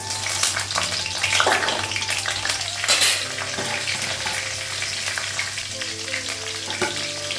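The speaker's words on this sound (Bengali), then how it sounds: "পাঁচফোড়ন দিলাম, কাঁচা লঙ্কা দিলাম" Panch phoron spices and green chilies sizzle in hot oil in a home kitchen, a steady crackling hiss with occasional louder spits and faint scraping of a utensil in the pan.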